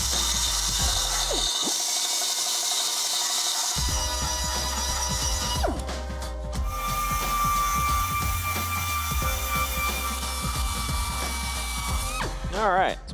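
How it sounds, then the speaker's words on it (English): Welded metal being ground smooth on an OBS Chevy truck build with a 632 big block; a continuous loud abrasive whine and rasp fills the whole stretch, briefly dropping out near the start before resuming. "now we just got to grind her smooth"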